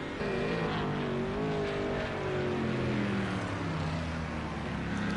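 A GT4 race car engine on track at the Algarve circuit, heard as a loud, continuous high-revving drone whose pitch glides up and down through gear and throttle changes, with no talk over it.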